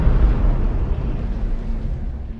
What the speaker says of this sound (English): Then the first explosion hit us.